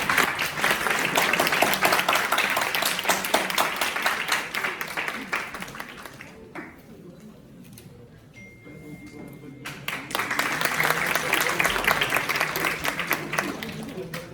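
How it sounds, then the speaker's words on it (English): An audience at a spiritual lecture claps in two loud bursts of applause separated by a brief quieter lull, with scattered claps and a faint tone in the gap before the clapping swells again. "Let's have a huge round of applause, everyone."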